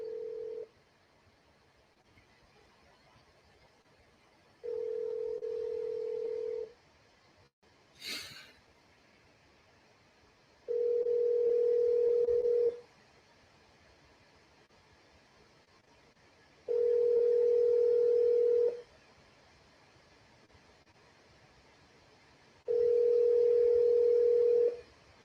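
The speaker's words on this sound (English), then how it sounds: "You gotta call a lot of people to get them to pick up the phone." Outgoing telephone call ringing back while waiting for pickup, five evenly spaced long ring tones about six seconds apart with quiet gaps and a brief breathy sound between, no speech.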